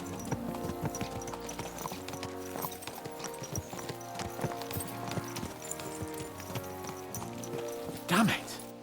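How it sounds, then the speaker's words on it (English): Horses' hooves clip-clopping at a steady pace during a ride in the video game Kingdom Come: Deliverance II, rhythmic and moderately close under a bed of game music, with a louder thud or snort near the end. "Let's really spur these horses on, eh?"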